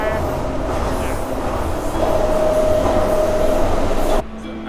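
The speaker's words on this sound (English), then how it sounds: "This is a ghost train. It does not have a driver." Steady rumble of a driverless DLR light rail train in motion, heard from inside the carriage, with a faint tonal whine rising midway before the noise drops off abruptly near the end.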